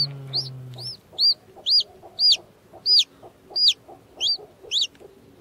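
A chicken clucks in a steady series of about nine sharp, close calls, evenly spaced over a quiet background after a brief low hum at the start.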